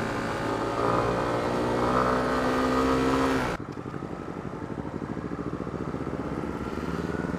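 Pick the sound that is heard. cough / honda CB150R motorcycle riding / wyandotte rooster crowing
honda CB150R motorcycle riding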